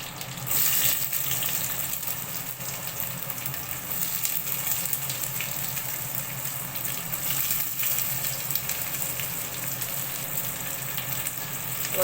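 Sliced onions sizzle in hot oil in a pan with cumin and fennel seeds for veg fried rice, a steady close frying hiss running throughout with no talk.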